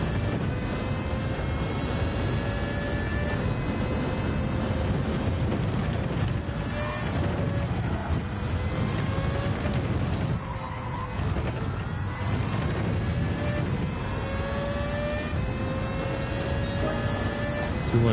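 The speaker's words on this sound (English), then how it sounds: "I drive the V10 just for the sound" A V10 race car engine in a racing video game drones steadily and loudly for the whole stretch, its pitch rising and falling through the gear changes and corners.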